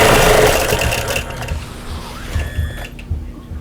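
A sewing machine stitches a southwestern style quilt, a fast rattling whir up close that slows and softens, with short bursts of stitching afterward.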